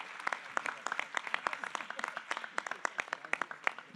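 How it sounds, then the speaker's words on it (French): Scattered applause from a modest audience at an agricultural tech challenge, individual claps distinct and fairly close, continuing at a lively uneven rhythm. "On les applaudit bien fort."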